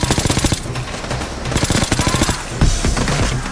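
Rapid automatic gunfire in the Payday 2 heist shooter, dense rattling bursts of shots in fast rhythm, loud and close, continuing almost without pause.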